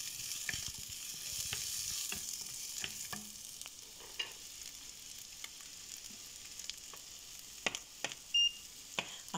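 Carrots and green beans fry with pork belly in a pan, giving a constant bright sizzle broken by repeated scraping knocks as a utensil stirs them, plus a short beep near the end.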